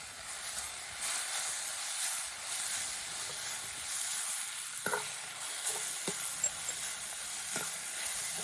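Onion and tomato frying in a pan give a continuous sizzle and hiss, with a few sharp clinks and stirring scrapes in the second half, no voices.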